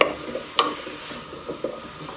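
Ginger, onion and garlic sauté gently in a pan for a pumpkin soup, giving a soft sizzle broken by a few sharp scrapes and taps of a stirring utensil, with no one speaking.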